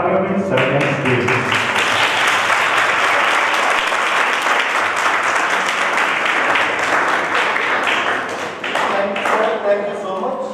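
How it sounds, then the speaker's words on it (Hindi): An audience at a seminar on emotions applauds to welcome the next speaker, dense loud clapping filling the room steadily for about ten seconds before thinning out near the end. "आपकी भरपूर तालियों में"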